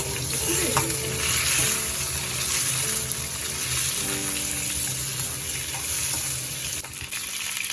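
Long-cut pumpkin strips frying in a pan for a Bengali marich jhol curry, a steady close sizzle with stirring scrapes and faint clinks throughout, no voices.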